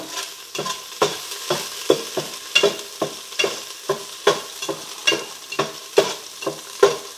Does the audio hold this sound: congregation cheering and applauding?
no